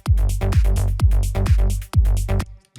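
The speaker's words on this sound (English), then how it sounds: "your room might have all these weird curves and make your mix sound like this" A music mix with a heavy repeating kick-and-bass beat sounds boomy and lopsided, as though played back in a room with uneven frequency response, loud and continuous with no speech.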